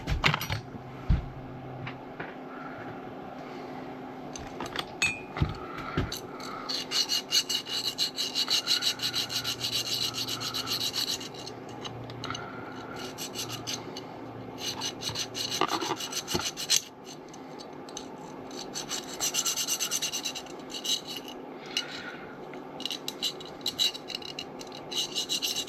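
A hand file rasps burrs off a metal part of a Yamaha 75hp two-stroke outboard motor during water pump replacement, steady close scraping strokes in rapid rhythm with occasional clinks.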